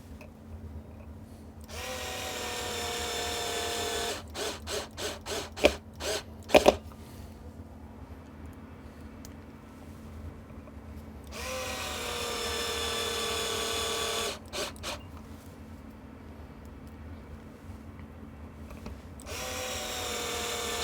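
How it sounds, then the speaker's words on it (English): A small, low-powered Ryobi drill drives screws into 2x4 wood in three long whirring bursts, separated by short clicks and taps, with a steady background hum and no talk. "you're seeing me put these in with a drill, a very small one, the weakest one Ryobi makes"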